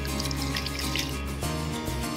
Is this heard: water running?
yes